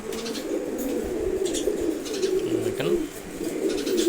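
Maxi racer pigeons coo in a loft with a steady low throaty murmur, along with chirps and a little wing flapping, as someone talks over them.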